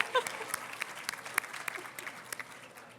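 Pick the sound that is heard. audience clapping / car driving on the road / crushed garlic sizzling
audience clapping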